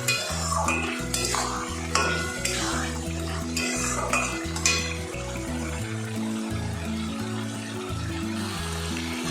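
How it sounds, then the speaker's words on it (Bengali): Pre-fried potatoes stirred and sautéed with spices in a pan for soybean curry, a spoon scraping and clanking against the metal pan in steady repeated strokes over a low sizzle, close and fairly loud, with no talk. "এবার এখানে আমার আগের থেকে ভেজে রাখা আলুগুলোকে ছেড়ে দেব। ছেড়ে দিয়ে এটিকে ভালো করে কষাতে হবে।"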